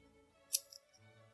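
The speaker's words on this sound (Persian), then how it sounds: "شروع کردم اینو برش زدن" Scissors make one quick, crisp snip through paper during a card magic trick, followed by a couple of softer rustles in an otherwise quiet room.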